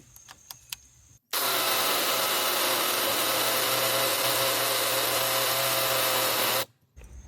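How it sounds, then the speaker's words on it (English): A handheld power drill (not a hammer drill) bores through a wall for a mini-split line set, one loud continuous whine held for about five seconds, close by, with a few faint taps before it. "Feel the drill getting hot."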